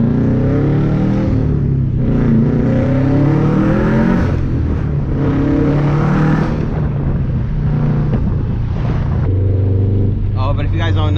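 A 2005 Subaru STI fitted with a COBB 20G turbo and 850cc injectors, tuned on 91 fuel, driving with a loud, steady engine drone whose pitch rises and falls with the revs, while a person talks over it.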